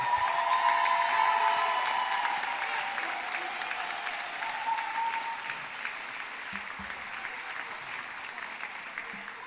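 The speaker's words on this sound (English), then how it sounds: "a resounding round of applause" A large audience at the 2022 UTT university graduation ceremony gives a sustained round of applause, loud at first and gradually thinning out.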